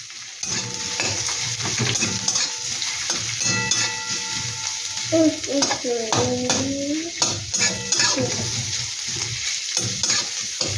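Onion fries in a pan while a spatula scrapes and stirs, producing a steady sizzle punctuated by rhythmic metallic clinks, close and moderately loud, with a brief high-pitched voice or squeak midway.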